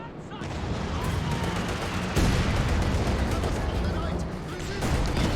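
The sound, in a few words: artillery and mortar fire in Company of Heroes 2 video game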